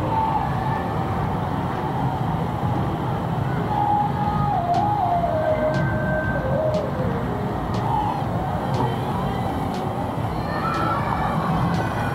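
A KY912 mini foldable FPV drone runs its motors at a high speed setting, giving a steady, close whirring whine with wavering pitch that holds for the whole stretch.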